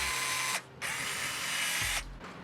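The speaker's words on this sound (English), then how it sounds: "Definitely want to get an electric rivet gun." An electric rivet gun used on a tiny bass boat's aluminum framing gives two short loud whirring bursts, each pulling through with a brief break between them, close by.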